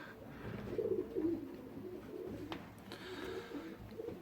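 Pigeons cooing inside a ventilated loft, soft low coos rising and falling at moderate distance, with a faint brief click and quiet room ambience around them.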